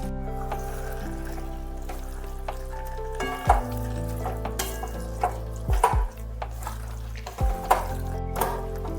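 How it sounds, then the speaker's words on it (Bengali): Fried eggplant pieces tipped into a pan of cauliflower stalk curry (chorchori) with vegetables, setting off a steady close sizzle with a few sharp clattering bursts as they land and get stirred. "এবার ভেজে রাখা বেগুনগুলো দিয়ে দিলাম।"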